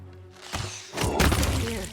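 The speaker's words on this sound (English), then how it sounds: "Nice explosion to start off with." Explosion in the fantasy role-playing game Pathfinder: Wrath of the Righteous, a loud booming blast with a heavy thud and rumbling crackle that swells after a brief quieter lead-in and lingers to the end.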